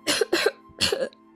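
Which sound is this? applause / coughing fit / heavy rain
coughing fit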